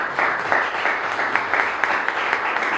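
A congregation at a Pentecostal church's Father's Day Sunday service in Punjab breaks into sustained applause, dense clapping from many hands that is fairly loud and continuous.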